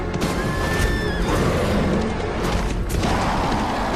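A horse neighs loudly and close, a rising whinny near the start over a dense rumbling backdrop of crashing, booming battle noise.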